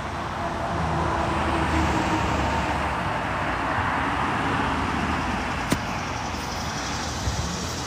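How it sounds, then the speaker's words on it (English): Steady car traffic rolls along a nearby road as a continuous broadband roar of passing vehicles, with one brief sharp click partway through and no voices. "it's a lot of cars right here."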